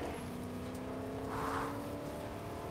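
A truck engine in Fortnite runs steadily at moderate volume, a low rumbling drone with a faint whine layered on top and a brief swell midway, continuous with no voices.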